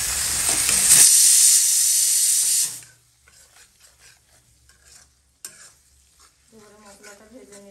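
Turmeric, chili and mixed spice powders hit hot oil in a pan with a loud, bright sizzle for about three seconds, then drop to quiet scraping and stirring with faint voices later.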